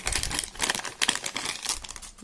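A foil package holding an Aliexpress LED strip being handled, giving close, loud, irregular crinkling and crackling in quick bursts throughout.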